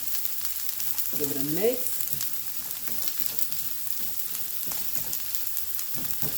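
Butter and garlic sautéing in a pan, a steady soft sizzle with stirring scrapes and light clinks, with a brief stir sound standing out early on; a voice speaks briefly.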